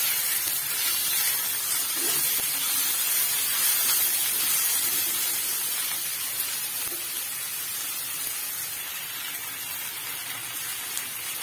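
Masala spices roasting in a pan for a soya chunks curry, giving a steady, even sizzling hiss that continues throughout without pauses.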